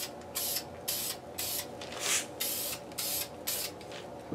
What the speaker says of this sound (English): So let's go ahead and get this sprayed.